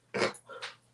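A single sharp, breathy burst followed by a softer second puff, like a close sneeze, heard alone in a quiet room.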